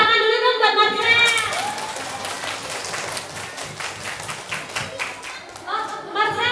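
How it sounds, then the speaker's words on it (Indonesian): Children and adults at an elementary school legal awareness session applaud for a child named Marcel, a dense burst of clapping between spoken lines, with voices heard at the start and end. "Tepuk tangan dulu dong buat Marcel."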